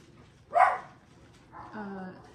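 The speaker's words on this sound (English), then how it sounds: "They are barking at my daughter for whatever reason." Puppies indoors let out a sharp single bark, then a softer whining yip a moment later, fairly faint in a quiet room.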